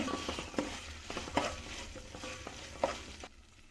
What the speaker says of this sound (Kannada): ಇದಕ್ಕೆ ಸ್ವಲ್ಪ ಶುಂಠಿ ಬೆಳ್ಳುಳ್ಳಿ ಪೇಸ್ಟ್ ಹಾಕೋತಾ ಇದ್ದೀನಿ